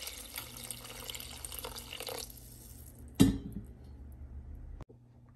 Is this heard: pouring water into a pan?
yes